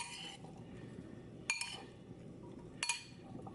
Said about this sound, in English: So I'm actually gonna transfer this into a bigger bowl so I can mix it up.